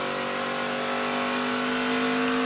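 Onboard a Ford ARCA race car at Pocono Raceway, the engine drones hard at high revs as one steady, loud roar with no voices.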